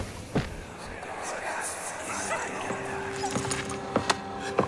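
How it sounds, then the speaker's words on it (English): A disembodied dog head in the horror game Amnesia: The Dark Descent gives off whimpering, drawn-out canine howls amid faint clicks and sparse game sounds. "But the disembodied dog head is definitely howling for some reason."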